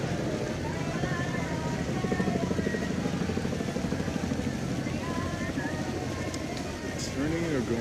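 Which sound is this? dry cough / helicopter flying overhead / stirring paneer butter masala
helicopter flying overhead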